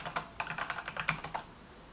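Quick bursts of keystrokes on a computer keyboard, about a dozen crisp clicks in uneven rhythm, close and fairly quiet with no talk.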